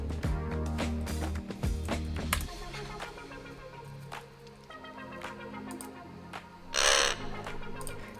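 Crows cawing repeatedly in a looping bird-call sound effect inserted into a Roblox Studio game, fairly loud and continuous, with a brief burst of broadband noise near the end.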